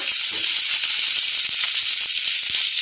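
Chopped onions sautéing in hot oil with popped mustard seeds and curry leaves, a steady close sizzle and hiss with faint crackles throughout, no voices.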